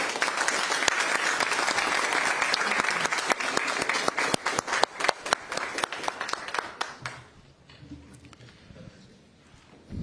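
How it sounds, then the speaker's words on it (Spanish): Applause from people gathered at a government council press conference, a dense burst of clapping for about seven seconds that thins into scattered claps and then fades to near quiet. "Un aplauso, los felicito."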